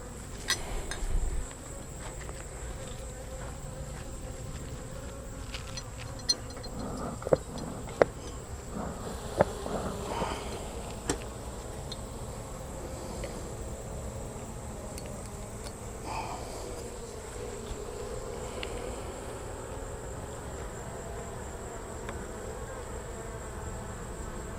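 Bees buzz around a sugar feeder jar in a garden, a faint, steady hum that carries on throughout, with a few soft clinks near the start and midway.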